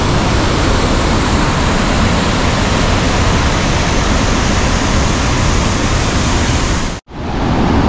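A large waterfall in Ciudad Guayana roars as a loud, dense, steady rush of water that fills the whole scene, with a brief cut near the end before the roar resumes.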